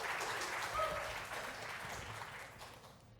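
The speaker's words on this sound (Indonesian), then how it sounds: "Boleh kasih tepuk tangan dulu dong teman-teman." Students and audience at a regional final of a school quiz competition in Jakarta give a round of applause, a soft, somewhat distant wash of clapping that gradually tapers off.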